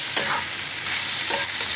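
Kutli frying in a pan on a gas stove while being stirred, a steady close hiss of sizzling oil broken by two brief scraping stirs of the spatula.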